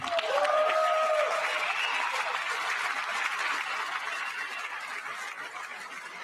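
Lawmakers in the chamber at a State of the Union address break into sustained applause that swells loudly at first and then slowly fades, with a few brief vocal calls near the start.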